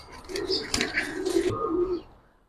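Giribaz pigeons coo in a loft, a short low soft burst of cooing with faint chirps and rustling, fading out at the end.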